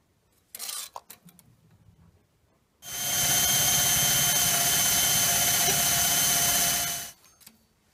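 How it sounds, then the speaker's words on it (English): A few light clicks and handling noises, then a power drill runs continuously for about four seconds at a steady high whine drilling holes for a vintage table saw's roll-away stand before stopping. "get those holes drilled in the same place, in the right place"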